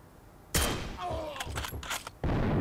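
Two sharp, loud scoped Kar98 bolt-action sniper rifle shots in the online war shooter Heroes & Generals. The first is followed by a short stretch of quieter mixed sounds and a voice, the second comes near the end.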